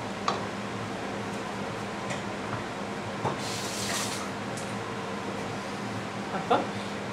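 Hot water poured in a brief rushing burst into a thick paneer butter masala gravy in a pan, set against a low steady kitchen hum and a few light clinks.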